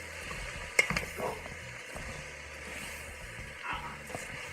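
Cabbage and sausage soup stirred in a pot on the stove, a soft sizzling bubble with a few clinks and scrapes of the spoon near the start, no voices.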